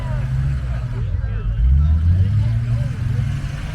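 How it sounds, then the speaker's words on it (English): Off-road vehicle motor revving hard at an off-road games event, a loud, close engine rumble that rises and surges as the tires dig in, with people talking over it. "That is a good sounding motor. Listen to that. Tires are digging in."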